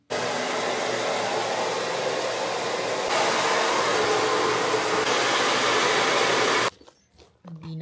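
A hair dryer blows steadily and loudly for nearly seven seconds, its broad airy roar shifting slightly in pitch, then cuts off abruptly, leaving faint room noise.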